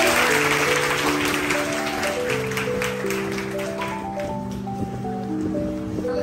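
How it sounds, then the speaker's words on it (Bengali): A crowd of schoolgirls at a girls' school clapping together in a loud, continuous burst of applause. Sustained tonal music plays underneath, and the clapping thins slightly toward the end. "একটা জোরে হাততালি দিয়ে।"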